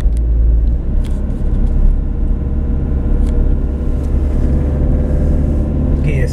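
Car driven at night, accelerating gently in second gear, gives a steady low engine rumble and road hum that holds evenly throughout, close and continuous.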